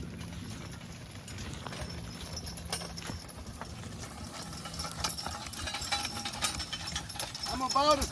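Draft horses hitched as a team of three clip-clop along steadily while being driven, hoofbeats fairly close and continuous over faint harness jingle, with people talking over the sound.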